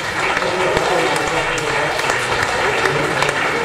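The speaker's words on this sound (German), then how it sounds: "Bitte Applaus für die Handelsteller." Audience clapping fills a hall at a men's 96 kg wrestling state championship in Austria, a steady dense applause that holds throughout without a break.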